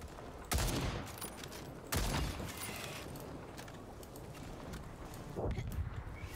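Gunfire in the Second Extinction video game while shooting down a drone, with a few sharp bursts over a constant dense rumble of game noise and no talking.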